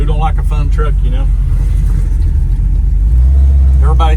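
Low rumble of a fully restored 1978 Chevrolet Squarebody drop truck with a big block 502 engine, heard from inside the cab while driving, the engine swelling louder near the end beneath intermittent talking.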